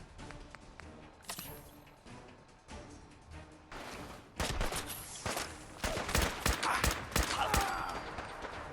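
A carbine fired in the video game Fallout 4 during a fight against rust devils: scattered quieter shots first, then dense rapid bursts of loud gunfire with crashing impacts toward the end.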